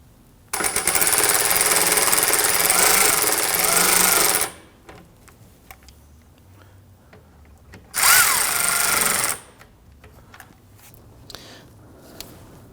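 A power tool whirs as bolts are snugged down on a 2009-2017 Volvo XC60 during AC suction hose replacement, with two loud sustained bursts of several seconds each separated by a quieter pause with light clinks.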